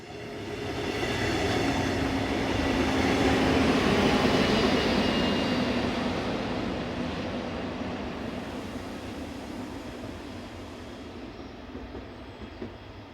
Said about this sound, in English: this train formed of Dosto coaching stock with a Class 182 electric locomotive